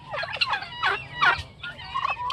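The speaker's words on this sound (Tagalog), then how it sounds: "masisigla yung aking mga pabo ngayon ah" Several turkeys gobble in quick, rattling bursts close by, one call following another over a couple of seconds.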